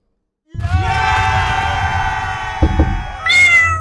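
Several cats meow loudly in a chorus of overlapping, sustained cries that start abruptly and run continuously, with a brief noisy shuffle near the end before a higher, shriller meow.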